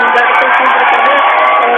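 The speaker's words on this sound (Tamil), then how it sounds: "அனைவருமே கரகோஷம் எழுப்பி கைகளை தட்டி ஆரவாரம் செய்யக்கூடிய காட்சிகளை பார்க்க முடிகிறது" A large outdoor crowd cheers and claps at the demolition of an 11-storey building in Moulivakkam, a continuous dense wash of applause and voices, loud and steady throughout with no pauses.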